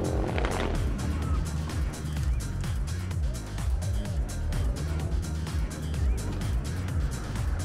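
Morgan Plus 8 rally car at the start of a stage at the Rallye du Chablais in Champéry, its engine rumbling and revving with rising and falling pitch, close and steady, with no break.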